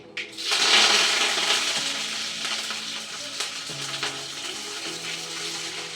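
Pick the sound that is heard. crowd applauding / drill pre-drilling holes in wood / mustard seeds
mustard seeds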